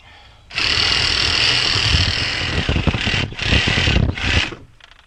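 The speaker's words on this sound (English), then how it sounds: "Take your sawzall blade, come right down through here past the teeth" A reciprocating saw running steadily through a whitetail buck's lower jaw past the teeth, a loud, close buzzing drone that stutters and stops in short bursts near the end as the blade cuts bone.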